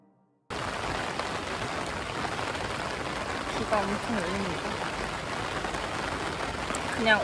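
Rain falls steadily in Cairns, a continuous hiss of drops on surfaces that starts abruptly and stays even.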